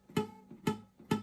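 A poorly fretted guitar string giving a dead, muted note, plucked three times in an even rhythm, each a short dull thud that dies away quickly, close and fairly quiet with no talking.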